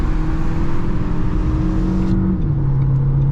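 A Renault Clio 1.3 TCe with a 130 EDC gearbox pulls away hard, its engine droning loud and close with a rising whine as the tyres briefly spin, then the pitch steps as it settles into acceleration.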